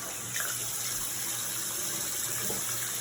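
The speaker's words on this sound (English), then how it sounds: "So RJ, let's turn on the water and show them how to wash their hands." Water runs steadily from a tap for hand washing, a continuous close hiss and splash lasting throughout.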